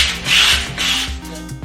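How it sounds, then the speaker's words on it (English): Two slow, scratchy strokes of sanding on a flat wall surface, a rasping swish rising and fading with each pass, close and clear. "Just sanding."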